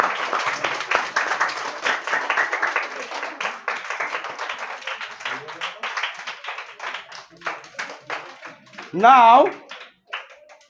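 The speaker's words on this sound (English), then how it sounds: "give a big round of applause for" Audience clapping during an Independence Day speech, a spread of scattered hand claps, under and between talk, ending with a short loud voice near the close.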